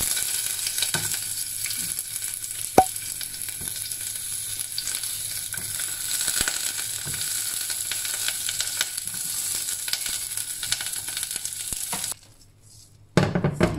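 Chopped onion sizzles steadily in hot coconut oil with garlic in a pan, a loud, continuous frying hiss with a few clinks of a utensil, then a sudden drop to near quiet near the end.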